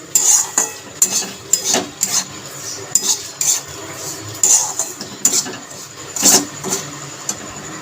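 Dry semolina is stirred while frying lightly in ghee in a kadai, with the spatula scraping close and loud in repeated strokes roughly once a second over a soft sizzle.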